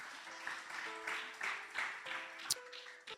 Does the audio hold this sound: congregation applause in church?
yes